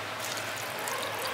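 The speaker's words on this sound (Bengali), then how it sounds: "এই চিড়েটাকে আমি জলে ভিজিয়ে রাখছি 5 মিনিট।" Water pours steadily over 100 grams of flattened rice (chira) to soak it for a village-style aloo poha cutlet, a continuous close splashing wash with no talking.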